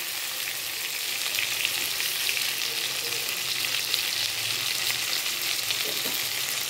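Pointed gourd (potol) softening as it fries in a pan gives off a dense, even sizzle that holds steady and fairly loud throughout, with faint stirring beneath.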